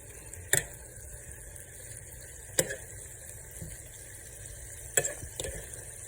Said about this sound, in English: frying with grease now. It's getting hot.